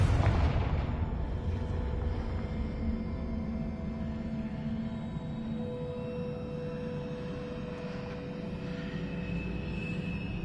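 A Confringo blasting spell in Hogwarts Legacy sets off a loud booming explosion at the start, then a long rumbling roar and crackle that carries on steadily under faint tonal hum, with no talk.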